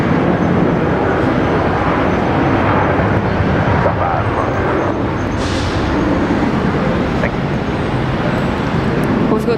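Jet airliners roar on takeoff at Brisbane Airport, a broad, sustained rumble that stays loud and steady, with a voice talking intermittently underneath.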